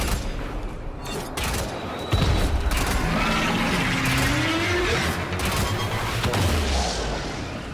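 Arca Plasmor shotgun blasts fired at an Eidolon boss in Warframe, heavy booming plasma shots over a constant roaring battle din, with a low voice speaking underneath.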